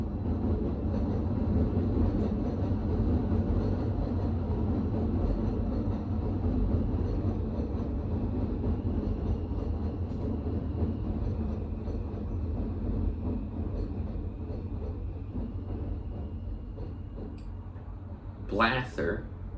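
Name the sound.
train passing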